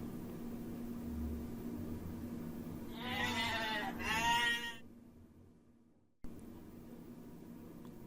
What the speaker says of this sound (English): This is a goat. This goat is a farm animal.